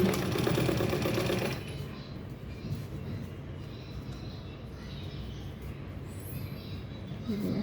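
A sewing machine stitches a bag from underneath with a chain-stitch, running loudly in a dense whirring burst for the first second and a half, then dropping to quieter mechanical hum and clicks.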